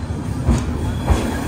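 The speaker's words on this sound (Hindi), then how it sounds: "NDLS के प्लेटफॉर्म नंबर 16 से हो चुकी है रवाना बिहार संपर्क क्रांति सुपर फास्ट एक्सप्रेस।" Bihar Sampark Kranti superfast express train pulling out of New Delhi railway station, a steady rumble of rolling rail cars with two soft clacking wheel thumps over a continuous low drone.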